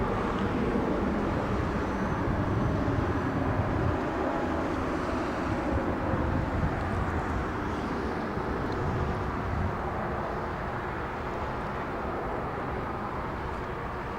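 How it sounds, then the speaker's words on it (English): A United Airlines Boeing 777 makes a heavy departure from LAX, bound for Honolulu. A faint, distant jet roar rumbles steadily for the whole stretch, mixed with gusty wind buffeting the microphone. "Looks like we have a heavy departure in the south. It's a 777 United"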